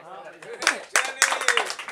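A voice speaks briefly, then several sharp claps ring out in a quick, uneven burst at a Coca-Cola drinking contest, close and loud.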